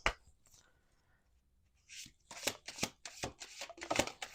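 Playing cards drawn and laid down from a deck during a Fearless Familiars tarot-style reading, a run of soft, crisp snaps and slides, faint at first and then several quick close card flicks in a row.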